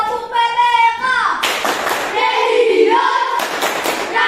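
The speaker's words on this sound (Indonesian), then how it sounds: "Mari teman-teman kita melakukan tepuk PPK." Children chant the PPK clapping routine in unison, their voices mixed with bursts of sharp group hand claps that come in rhythmic clusters, close and loud.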